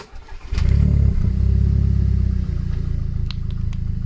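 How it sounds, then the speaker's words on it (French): An Audi TT's engine cranks and fires up from cold, then settles into a loud, steady low idle close by, with a few faint clicks over the rumble. "Il va démarrer ce jeune moteur."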